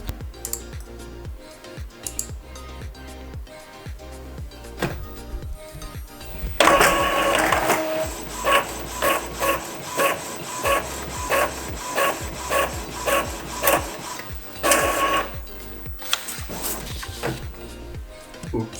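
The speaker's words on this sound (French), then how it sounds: "on va faire un premier test où je vais imprimer ça, la notice que j'ai faite" Printer running a test page, starting with quiet clicks and whirs and then settling into a loud, even rhythm of mechanical passes, with the print head shuttling back and forth before it winds down.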